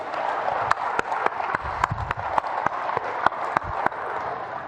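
The audience at a MUFON Colorado event applauds, a sustained crowd clapping wash with a few sharp individual claps standing out, moderately loud and filling the room.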